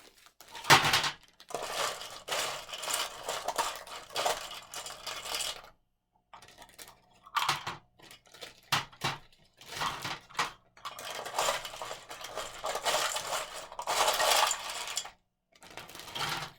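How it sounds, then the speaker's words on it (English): Ice being scooped into a plastic bag for an ice cream chemistry demonstration, with bursts of rattling, crunching cubes and crinkling plastic, separated by brief pauses. "we'll put 5 scoops of ice in the other bag"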